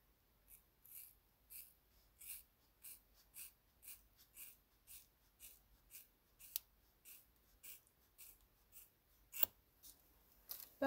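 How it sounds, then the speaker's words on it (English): Scissors snipping through dyed hair during a gray hair transition, a steady series of about twenty crisp, close, quiet cuts at an even rhythm with faint breathing underneath. "I think I might just actually pull it down and just snip."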